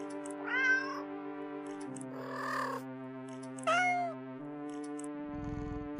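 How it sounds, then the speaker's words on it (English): Several cats meow, one after another, in bright drawn-out calls over a steady tonal background hum, with no clear munching noise and no talk. "The sounds of happy cats munching away at their fish fills your ears"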